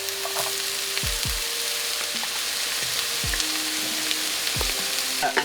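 Frozen crushed garlic sizzling in a gumbo pot, a steady close frying hiss with occasional stirring scrapes and clinks throughout.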